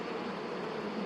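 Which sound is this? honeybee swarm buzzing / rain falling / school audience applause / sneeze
honeybee swarm buzzing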